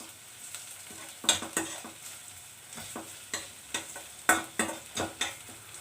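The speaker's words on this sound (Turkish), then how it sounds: "Salçayı da kavuruyoruz. Şöyle güzel bir kavuruyoruz." Tomato paste stirred and fried in a pan while cooking Turkish dried bean stew, with a steady close sizzle broken by repeated scraping stirs that come in uneven bursts.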